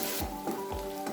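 Shallots, garlic and curry leaves sizzle in hot coconut oil, a steady close frying hiss with a few soft stirring scrapes, quiet and without voices.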